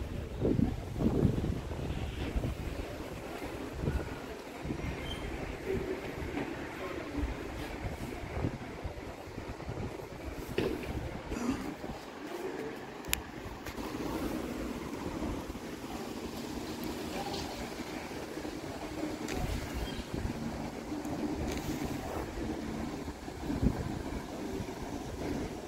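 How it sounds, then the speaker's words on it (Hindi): Cold wind blows steadily outdoors, a continuous broad rushing roar with gusty buffeting against the microphone, loud and close throughout with no talking. "बाहर सही ठंडी हवा चल रही है"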